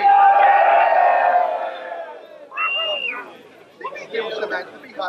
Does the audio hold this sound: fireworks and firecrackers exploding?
no